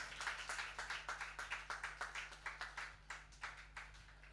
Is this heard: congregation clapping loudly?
yes